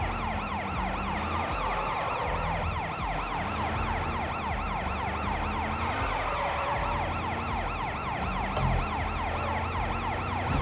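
Police sirens in the video game Sleeping Dogs, several wailing tones overlapping continuously over a rumbling car engine, loud and close throughout.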